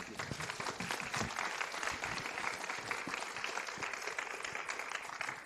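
An audience applauds a panel at the close of an interfaith discussion session, a sustained, even round of clapping from a room full of people, fairly distant and without voices over it.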